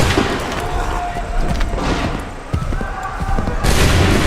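Musket volleys crack and boom in a battle scene of the PC game Assassin's Creed 3. Several loud, close bursts of gunfire overlap with rumbling background din, and voices shout amid the shots.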